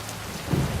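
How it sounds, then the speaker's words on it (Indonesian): Rain falling in a film scene, a short, steady hiss of close rainfall with a soft low rumble swelling briefly partway through, and no voices. "hujan mulai turun"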